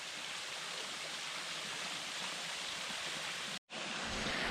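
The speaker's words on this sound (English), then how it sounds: "I heard this water and I thought, well, this has to be a huge waterfall" A small waterfall a few steps off the Devils Rock Trail pours in a steady, close, broadband rush of falling water, broken only by a brief cut near the end, with no talk.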